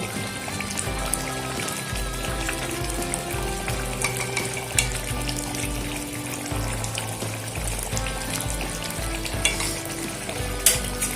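A spoonful of ghee sizzles in a pan of new-potato aloor dum, a dense, steady crackle close by with intermittent clinks and scrapes of stirring throughout.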